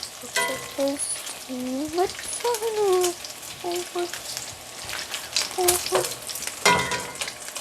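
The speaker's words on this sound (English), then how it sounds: "Because the popping sound is the water coming out of the meat." Bacon frying in a pan crackles and pops loudly and near, with a dense sizzle broken by sharp bursts, while scraping and faint tonal kitchen sounds cut in intermittently.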